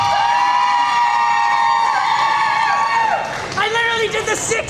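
A crowd cheers and shouts loudly and continuously, with sustained high voices and whoops rising over a dense roar before it breaks into scattered yells.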